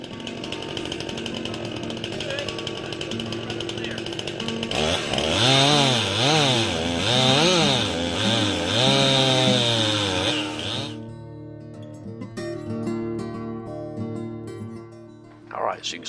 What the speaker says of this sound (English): we've been sawing away on this thing and got wedges drove in the top of it